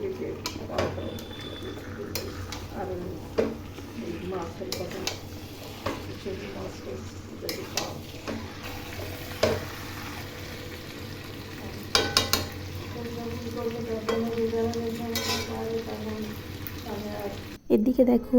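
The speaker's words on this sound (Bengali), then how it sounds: "এবার এর মধ্যে আমি চিকেনটা দিয়ে দেবো" Chicken sizzling and frying in a pan of cooked spice paste, with steady crackle, stirring and occasional clinks of utensils against the pan, while a person talks nearby.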